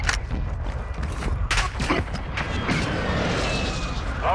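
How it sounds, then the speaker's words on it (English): A mortar strike in Call of Duty: Modern Warfare II lands as a run of heavy booms and rumbling blasts mixed with gunfire, loud and close, with faint voices underneath. "Our mortar strike is inbound."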